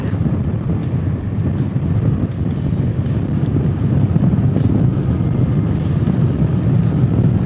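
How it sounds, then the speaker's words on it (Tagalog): Steady, loud wind roars and buffets the microphone while riding a Honda X ADV scooter on an open road, a continuous rushing rumble with no speech. "Malamig ang simoy ng hangin"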